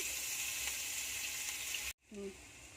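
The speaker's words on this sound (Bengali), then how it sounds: "এই মাঝখানটায় তেলের ওপরে দিয়ে দেবো রসুন" Garlic fries in hot oil beside browned potato in a shrimp-and-potato curry, giving a steady, close hissing sizzle that cuts off abruptly, followed by a brief faint tone.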